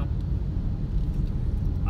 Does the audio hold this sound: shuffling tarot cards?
no